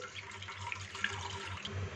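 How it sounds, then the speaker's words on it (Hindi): Water poured into a cooking pot while making hareesa with tender cooked meat, a soft continuous splashing trickle heard close at low volume. "फिर थोड़ा पानी डालेंगे"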